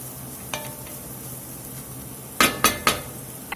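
Lamb and onion fry softly in a pan under a low hiss, with a faint clink early on and then three sharp metallic clinks of a utensil against the pan near the end.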